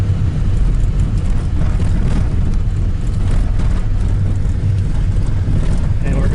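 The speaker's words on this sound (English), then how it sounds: "That's how dirt roads are, especially if you're in a little car." A small car rolls along a bumpy dirt road, giving a steady, loud low rumble of engine and tyres with constant road noise and no pauses.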